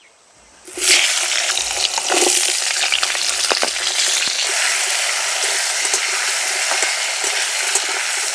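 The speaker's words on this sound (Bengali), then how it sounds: "মাছ ভাজা তেলেই আলু ভেজে নেব" Potatoes hit hot oil left over from frying small fish, erupting into a loud, steady sizzle that crackles and spits close by, with no voices over it.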